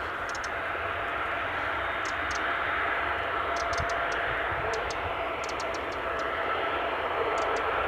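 A Boeing 737 at Bristol Airport gives off a steady, broad jet roar that holds even throughout, with faint high ticking sounds above it.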